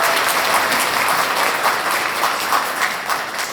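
An audience claps steadily at an English academy's vision ceremony, a full, continuous round of applause that holds at an even level throughout.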